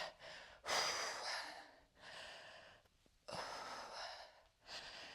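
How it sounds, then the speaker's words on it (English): Slow, deep breaths drawn in and pushed out in a steady rhythm during a full-body workout, close and fairly quiet, with short pauses between each breath. "Deep breath in, breathe it out."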